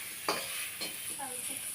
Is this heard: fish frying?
yes